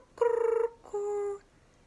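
A person's voice imitates an unusual crow call: a buzzy, wavering nasal note followed after a short gap by a steadier drawn-out tone, both close and clear in otherwise quiet surroundings.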